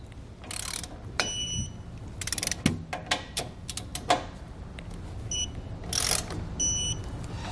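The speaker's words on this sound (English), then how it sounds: "go back and torque them with our 22 millimeter socket" A 22 mm socket tightens trailer suspension U-bolts during a Roadmaster Comfort Ride install on a 2017 Grand Design Reflection, with bursts of loud ratcheting clicks and short whirring runs between metallic clanks.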